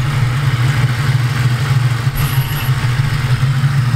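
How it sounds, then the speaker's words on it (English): A Ford Mustang with a naturally aspirated 2V engine and EGR delete idles close by, a steady low rumble with a faint light clatter running through it, loud and constant with no talk. "But the car, besides that little noise it's making, it's running good, man."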